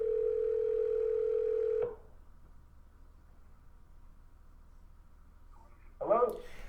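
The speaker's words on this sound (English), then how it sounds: "We're going to call the two promoters, Charlie and Alex Lane." A steady telephone dial tone sounds loud and unbroken for almost two seconds, then cuts off and leaves a low hum. A short burst of call-connection noise follows near the end.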